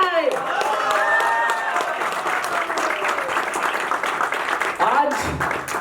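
Loud, continuous applause fills the hall at a corporate foundation-day celebration for a real estate company, with a warbling tone and some crowd voices underneath.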